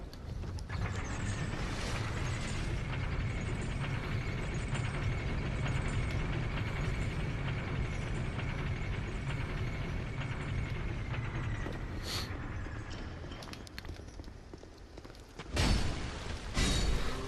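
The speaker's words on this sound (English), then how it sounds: "Ride the elevator." Steady low mechanical rumble and hum of an elevator ride in Dark Souls 2, continuous for most of the stretch with a faint whine above it, ending with a couple of louder thumps as the lift stops.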